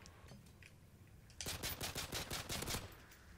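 Rapid gunfire bursts from Call of Duty MW3 video game, a loud run of sharp shots starting partway in and lasting over a second, after a quieter stretch with faint background.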